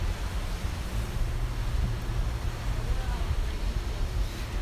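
Ocean waves wash onto a beach on a rainy day in a steady, broad roar of surf mixed with wind noise, continuous and fairly loud, with no clear individual breaks.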